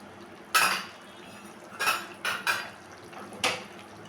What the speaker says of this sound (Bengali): এখন আমি একটা ঢাকা দিয়ে দেবো মাংস সবজি সব সেদ্ধ হওয়ার জন্য